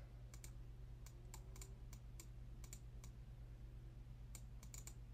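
Computer keyboard typing, a sparse run of crisp individual keystrokes at close range over a steady low hum, with no voice.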